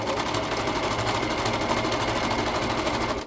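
A sewing machine stitches a sweatshirt in one steady, continuous run, its loud, fast mechanical whirr close by and alone with no talking.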